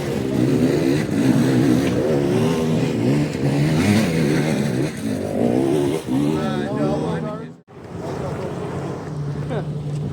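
An off-road vehicle on a trail strains its engine climbing an obstacle, loud revs rising and falling under wind buffeting on the microphone, with voices talking over it and a brief dropout near the end.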